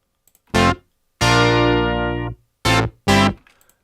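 A Yamaha DX7 synthesizer plays its Brass 2 preset in a short phrase: a brief stab, a long sustained chord of over a second, then two more short punchy stabs. The bright, buzzy brass tone sounds close and loud with nothing underneath.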